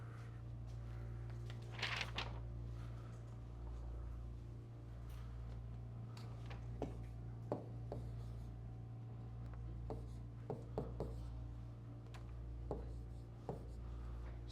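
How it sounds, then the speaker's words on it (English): A sample problem is written by hand on a board: irregular scratchy strokes and short taps of the writing tool come in bursts over a steady low room hum. "We'll write a sample problem up here."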